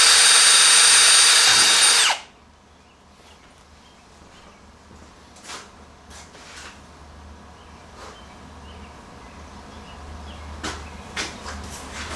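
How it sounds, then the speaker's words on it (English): A power drill bores holes through the aluminum body of a rental trailer, a loud, steady high whine for about two seconds that cuts off abruptly, leaving a quiet shop with a few faint knocks. "So now I'm going to drill some holes so I can get the water out of this thing"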